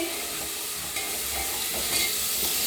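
Vegetables frying in a pan for veg pulao, a steady close hissing sizzle with light stirring throughout.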